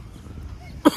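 A single short, sharp cough near the mic at the very end, after a stretch of quiet background room noise.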